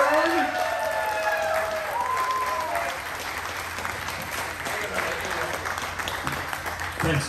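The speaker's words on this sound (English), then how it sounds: "So let's ride that applause and please welcome to the stage Mr." An audience at a Superman Celebration Q&A event applauds to welcome actor George Newbern to the stage, a broad, steady wash of clapping throughout, with a host's voice briefly heard over it at the start.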